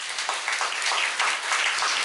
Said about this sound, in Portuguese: Vamos mais uma palmas para esse Deus.